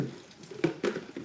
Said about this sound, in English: and I'll rinse it again.